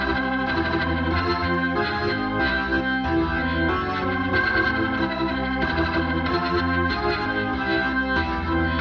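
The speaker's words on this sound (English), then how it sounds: "I've mixed in the Leslie and a little bit of the DI of the Hammond as well." Hammond organ played through a Leslie speaker on the 180 setting, blended with a direct signal, sustained chords with a swirling, wavering texture carrying steadily in a full mix.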